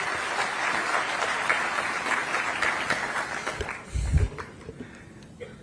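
An audience applauds to welcome a singer at a launch ceremony with the chief minister, steady broadband clapping for several seconds that thins out, with a short low thump near the end.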